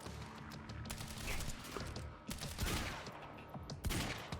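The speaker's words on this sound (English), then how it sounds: "the shotgun shots all missed because you were bad" Several shotgun blasts in the video game Quantum Break, booming in quick clusters over dense gunfire and action noise, loud and close.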